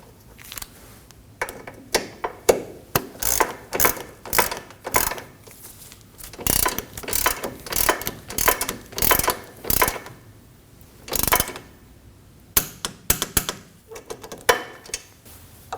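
A wrench tightens a nut onto a front control arm bolt on a 2003-2006 Subaru Baja, with rapid ratchet clicks in uneven bursts and pauses, close and fairly loud.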